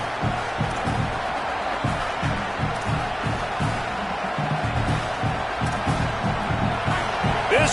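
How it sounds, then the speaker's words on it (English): Broad roar of a football stadium crowd at an early point in the game, a steady dense wash of cheering and noise that holds at a constant level throughout, with faint thumping beneath it. "This crowd bringing the energy and noise early."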